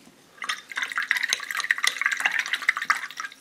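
Water splashing and dripping as a paint brush is rinsed and worked, close and fairly loud, with irregular small splashes and trickles following a quiet start.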